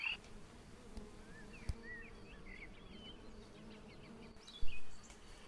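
Stingless bees known as mel de chão buzz close by at a ground-level nest, with a soft continuous drone, a few sharper passes of single insects, and a louder burst near the end.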